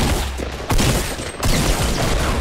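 Gunfire in Fortnite: Battle Royale, a dense crackling volley of rapid shots, loud and close, filling the moment with short bursts and no talking.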